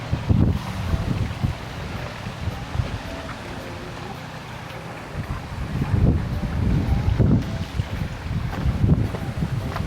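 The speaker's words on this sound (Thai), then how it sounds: "มีลม" Wind gusts buffet the microphone outdoors at a temple site in Savannakhet, Laos, in low, rumbling surges that rise and fall, with faint voices in the background.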